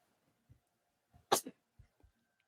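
A single close sneeze bursts out sharply, framed by a few soft breaths and small mouth sounds in an otherwise quiet indoor room.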